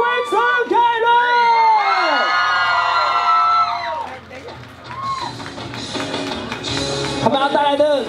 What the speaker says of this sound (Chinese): 所以最热情的掌声欢迎我们的高国辉、陈凯伦。